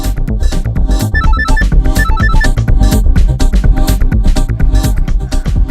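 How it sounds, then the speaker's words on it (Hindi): A phone ringtone plays at a party, its bright repeated melodic notes sounding over loud busy music and party noise. "शीना फोन क्यों नहीं उठा रही हो?"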